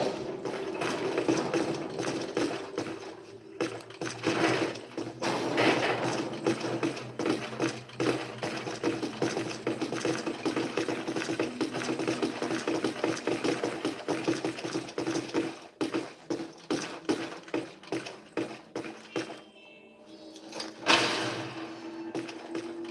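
Mechanical hum and ratcheting clatter from a hotel elevator in Ghostbusters Remastered video game, a continuous rattling, grinding drone with irregular clicks over most of the stretch, easing briefly near the end before resuming.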